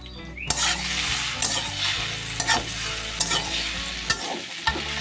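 Masala pasta with chopped coriander leaves is stirred in a pan, with a steady sizzle punctuated by repeated spatula scrapes and metallic knocks against the pan, heard close and without talk.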